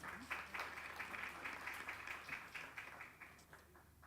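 Warm applause from an event audience greets a zone director coming to the podium at a Ring the Bell for Gender Equality ceremony, a continuous rolling patter of many hands at a moderate distance.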